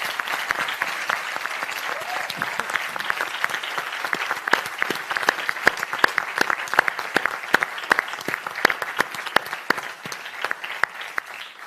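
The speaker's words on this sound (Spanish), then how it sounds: "Yo termino la mesa sobre todo pidiendo un aplauso para ellos" Applause from the audience at the close of a festival panel discussion, a crowd clapping briskly and steadily for several seconds, sharp individual claps standing out in a lively, continuous patter.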